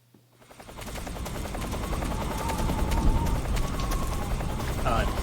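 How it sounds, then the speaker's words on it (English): A helicopter in the video game Metal Gear Solid 3 swells in from near silence to a loud, rapid rotor chop that keeps beating steadily, mixed with other game sounds, and a voice talks over it. "Unfortunately, this is a helicopter I cannot destroy."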